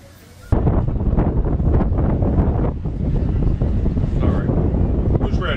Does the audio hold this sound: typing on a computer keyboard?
no